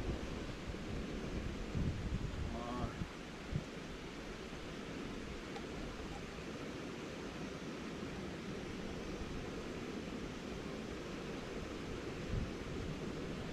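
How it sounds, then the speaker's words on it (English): A small camping gas stove heating a pot of water outdoors on a two-day hike in Beaver Valley gives a steady broadband roar and hiss that holds evenly throughout. "My little stove is working down here"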